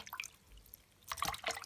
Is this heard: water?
yes